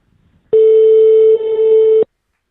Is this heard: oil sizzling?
no